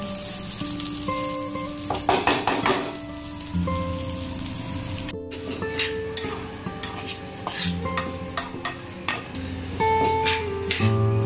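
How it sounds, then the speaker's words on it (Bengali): Mung dal frying in ghee in a home kitchen pan, a steady sizzle with stirring scrapes and occasional clinks of utensil against the pot, close and continuous with brief pauses. "মুগ ডালটাকে ভালোভাবে ঘি দিয়ে ভেজে নেব।"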